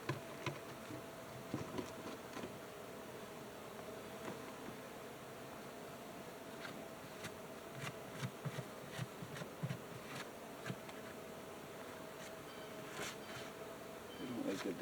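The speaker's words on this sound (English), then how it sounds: "There's bees there, they're working that" Bees hum steadily at close range on a hive box, a dense droning buzz with soft scattered taps and rustles, no voices.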